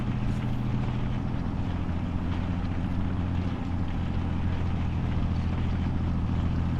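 Steady, loud, continuous engine drone from a farm tractor labouring as it climbs a small hill during field prep, with a heavy low rumble and no break.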